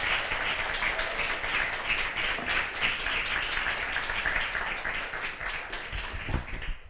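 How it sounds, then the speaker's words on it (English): Audience applause for a keynote speaker at an indie developer conference, a steady wash of many hands clapping that carries on for several seconds at moderate loudness before thinning out. "please give her a round of applause."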